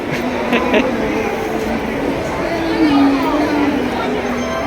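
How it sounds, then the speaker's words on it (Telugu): A passenger train rumbles into a busy platform with a steady low drone and a long brake squeal, while people chatter and talk nearby throughout. "ఫైనల్గా ట్రైన్ అయితే వచ్చేసింది"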